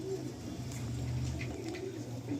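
Pigeons cooing in a full loft, low steady throaty coos repeating close by at a quiet level.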